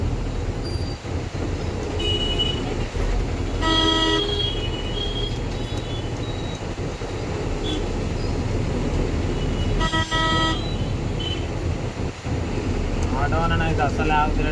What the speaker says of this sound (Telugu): ట్రాఫిక్ అయితే ఘోరంగా ఉన్నది ఇది బస్ స్టాండ్